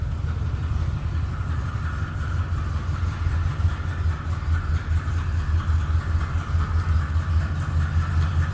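A 1962 Ford F100 Custom Cab sits idling in neutral after warming up, its engine giving a steady, even, close-up rumble with a faint rhythmic ticking, no talking over it.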